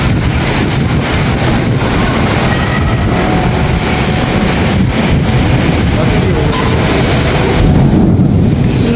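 Loud, constant roar of heavy rain pouring down, with faint voices underneath and a gusty swell near the end.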